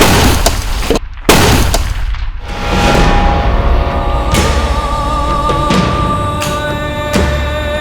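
Several sharp 12-bore gun blasts ring out over a busy, noisy background, with loud cracks spaced a second or two apart and echoing tails.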